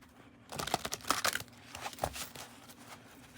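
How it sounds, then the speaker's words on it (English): Oracle cards, a larger-than-usual deck, shuffled book-style at close range in a quiet room: a brief flurry of papery riffles and crinkling taps, faint and soft, with no talk over it. "Trying to get better at this whole like shuffling like a book thing with oracle cards"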